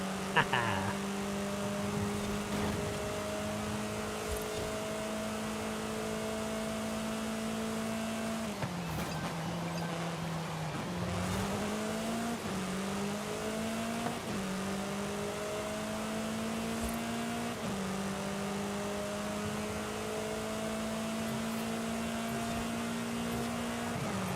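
A Porsche race car engine in the Forza video game drones and shifts pitch as it accelerates and changes gears, a continuous tonal hum with dips and rises, moderately quiet and steady throughout.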